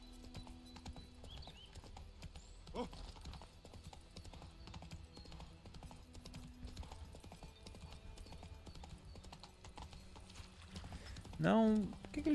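Galloping hooves of a horse in The Witcher 3 keep up a steady clip-clop rhythm beneath someone speaking Portuguese, ending with a short louder sound.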